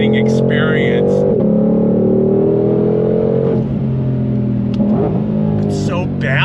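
A 2022 Ford Shelby GT500 Mustang engine pulls hard with a loud, steady rumbling drone that rises in pitch through the run, heard from inside the car with faint high whines on top.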